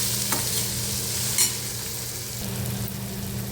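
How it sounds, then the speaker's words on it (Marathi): Tomatoes for a dry cluster bean (gawar) bhaji are stir-fried in a pan, with a steady soft sizzle and a few faint scrapes of the spoon against the pan, close and without talk. "पुन्हा परतून घेऊया आणि आपलं टोमॅटो चांगलं मस्त मऊ शिजवून घेऊया आपण"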